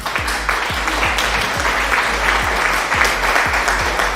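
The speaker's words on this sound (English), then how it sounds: "if I play this applause, do you hear this applause right here?" Loud, dense applause played as a livestream sound alert, continuous and even, with a low electronic thump pulsing underneath at regular intervals.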